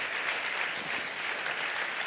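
Steady, dense applause from an audience at the Nuit du Sport Genevois 2025 awards gala, sustained evenly for a couple of seconds with no voices on top.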